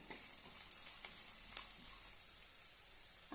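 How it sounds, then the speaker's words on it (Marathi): Roasted chana dal being sautéed in a pan for curd upma gives a soft, steady sizzle with a few faint stirring scrapes, quiet and close, with no voices. "आता यामध्ये भाजकी डाळ घालूया थोडीशी ते पण परतून घेऊया"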